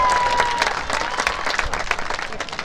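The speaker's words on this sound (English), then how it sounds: "Give Rowan a round of applause." A crowd at a Special Olympics event claps for Rowan, dense outdoor applause holding steady for a couple of seconds, with a brief faint whistle-like tone near the start and some murmur underneath.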